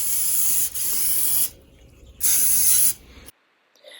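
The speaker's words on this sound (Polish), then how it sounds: "Jeżeli jest coś pilniejszego, to używam takiego sprayu dezynfekującego." Disinfectant spray hisses onto parcels in two close, sustained bursts, each lasting around a second, separated by a short quiet gap and followed by near silence.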